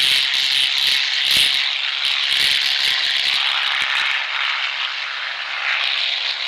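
Single-engine T-6 Texan warbird rolling for takeoff at Kissimmee, a steady loud roar of the radial engine and propeller with broad hissy wash, near and continuous, with no talk.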